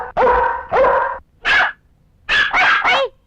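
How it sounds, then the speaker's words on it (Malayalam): A dog barks loudly and close by, six sharp barks in clusters: two, a lone one, then three quick ones. "പട്ടിയെ പിടിച്ചേ"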